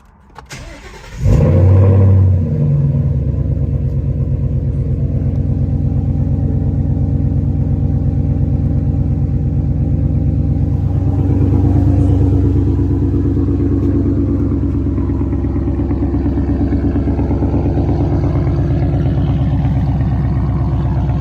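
A 2015-2017 Mustang GT with a JLT cold air intake and SCT tune starts up with a sharp crank, then settles into a loud, deep, steady rumbling idle that lifts slightly with a mild rev midway.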